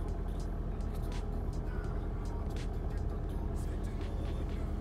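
A car engine idles steadily and close by after a start-up, a constant rough rumble filling the whole stretch, with no talking over it.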